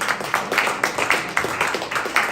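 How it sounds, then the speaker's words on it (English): A crowd claps in a dense, steady patter at a speakers' forum, close and fairly loud, with no voices standing out. "Give yourself a round of applause for coming tonight."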